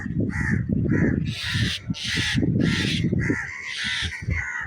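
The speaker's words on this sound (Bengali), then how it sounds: "অরিকে ছাদে দেখলেই এই কাকটা প্রচুর ডাকাডাকি করে।" A crow on a rooftop caws loudly and repeatedly in harsh, close bursts, the calls coming in rapid succession with brief gaps.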